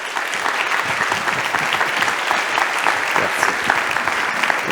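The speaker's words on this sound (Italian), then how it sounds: "con un bellissimo applauso lo accogliamo sul palco il professor" Theatre audience gives a warm, dense round of applause welcoming a professor onto the stage, many hands clapping evenly and steadily throughout.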